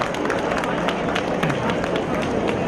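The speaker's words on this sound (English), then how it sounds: "A big round of applause for her." Audience applause for a stall owner at a food event, a steady patter of many hands clapping at moderate loudness with voices mixed in.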